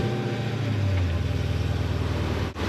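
A Dodge Challenger engine idles close by with a steady, even low rumble and a faint rhythmic pulse, running alone without any talk and dipping briefly near the end.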